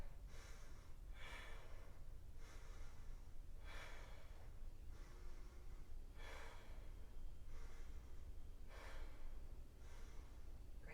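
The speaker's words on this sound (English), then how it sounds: "Let's take 7 more breaths." Slow, deep breaths during a vinyasa yoga flow, each inhale and exhale a soft airy rush recurring every second or so in a calm rhythm, close but quiet over a low background hum, no talk.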